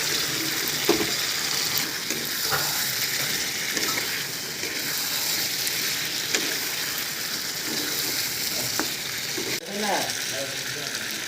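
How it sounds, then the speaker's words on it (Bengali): Chicken pieces fry in hot spiced oil, giving a close, continuous sizzle with occasional clanks and scrapes of a spoon against the pot. "মশলা কষানো হয়ে গিয়েছে, এখন আমি মাংসটা এর মধ্যে ঢেলে দিচ্ছি।"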